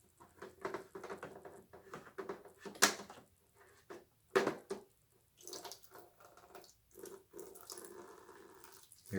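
Water gurgling and splashing through a siphon hose as a fish tank drains during a water change, with irregular glugs and spurts close by and small handling knocks between bursts.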